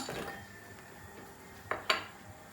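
Quiet kitchen handling as chocolate is placed in a glass bowl, with two sharp glassy clinks near the end, close and distinct against a low background.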